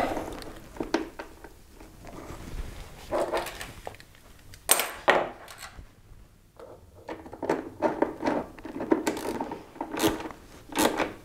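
A socket ratchet working screws on the airbox of a Moto Guzzi California 1400 motorcycle, giving intermittent bursts of close metallic clicking and ratcheting with pauses for repositioning, and no talk.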